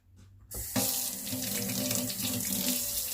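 Cold water bursts from a tap after a brief quiet moment, then runs steadily and loudly in a close, continuous splashing rush with no talk over it.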